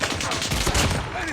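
Gunfire in a first-person shooter video game, a dense burst of rapid overlapping shots crackling loud and close for the whole moment, with a voice briefly heard underneath.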